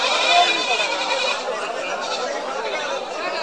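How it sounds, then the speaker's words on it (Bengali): At a busy Black Bengal goat market, native goats bleat amid a dense crowd of chattering voices, the calls blending into a constant, loud din. "সম্পূর্ণ খাঁটি দেশি জাতের ছাগল।"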